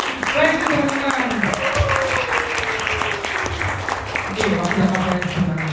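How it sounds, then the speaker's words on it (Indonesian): An audience at a motivational seminar-style event in Surabaya claps steadily and loudly throughout, a dense continuous applause with a tonal voice or music line faintly under it. "tepuk tangan dong buat Bro Alan."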